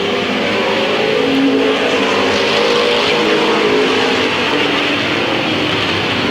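Race cars roar around the oval at Midvale Speedway in 1995, a dense, continuous engine drone from several cars at steady loudness with no talk.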